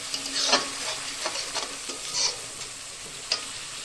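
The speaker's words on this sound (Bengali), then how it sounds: "পেঁয়াজ বাটাটা একটু লম্বা ভাজা হবে।" Onion paste frying in a pan for a long time, with a soft continuous sizzle broken by several scraping stirs of a spatula, close and fairly quiet, with no talk.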